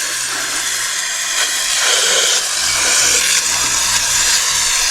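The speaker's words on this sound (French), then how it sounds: "On va passer un petit coup de nettoyant frais dessus" Aerosol cleaner sprayed onto a van engine part, a loud close hiss that bursts and swells across a few seconds with slight breaks, alone without talk.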